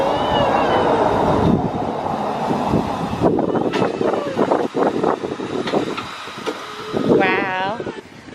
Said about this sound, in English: we're going to get our train and that is going to pull us along